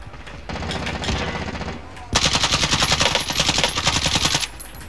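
Rapid automatic gunfire in Call of Duty Warzone on Rebirth Island, sustained loud bursts that grow denser and louder midway, with brief speech underneath.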